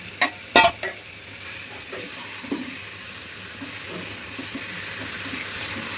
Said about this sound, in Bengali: এবার আমি এই যে সেদ্ধ আলুগুলো এগুলো দিয়ে একটু কষে নেব।